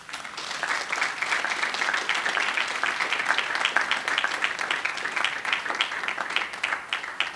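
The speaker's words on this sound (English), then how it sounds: "Let's give another round of applause" A crowd applauds after an inspiring speech about life as a refugee in Kenya, a full, continuous wash of many hands clapping, steady and loud from start to finish.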